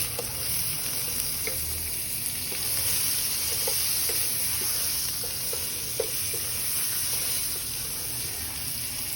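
Garlic sautéing in butter in a pan of Cajun-seasoned crab sticks, giving a steady hiss of frying with light scattered taps and scrapes of stirring, close and continuous.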